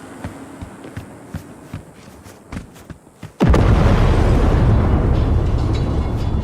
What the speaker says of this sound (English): She's burning! Quick, before she blows!